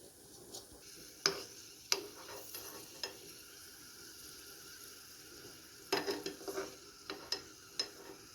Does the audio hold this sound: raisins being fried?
yes